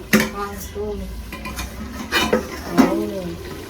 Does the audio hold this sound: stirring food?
yes